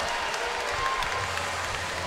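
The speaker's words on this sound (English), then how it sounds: "A big round of applause." Spectators at a STIHL Timbersports men's championship clap steadily, a broad patter of applause at moderate distance with light crowd murmur.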